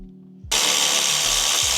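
A power tool whirs loudly and continuously, close by, as two 10mm bolts come off a 2025 Honda Civic Si during a front mount intercooler install, cutting in abruptly after a brief low hum.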